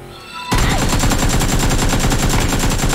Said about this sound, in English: That guy had a shotgun.